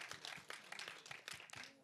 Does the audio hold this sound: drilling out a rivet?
no